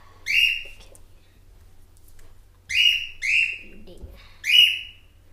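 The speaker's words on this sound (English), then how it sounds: "that's just our pet bird" A bird gives several loud, bright chirps in bursts with pauses between, near and clear, while a person briefly says a word.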